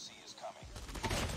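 Gunfire from the video game Call of Duty Mobile, a short loud burst of shots breaking in after a brief quiet moment and continuing to the end.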